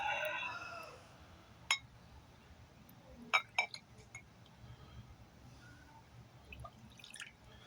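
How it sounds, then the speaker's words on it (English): Glitter-filled water potion trickling into a glass vial, heard as a few sparse drips and light glassy clinks over a quiet background with a brief soft rush at the start. "You have to carefully pour the potion in a vial of your choice."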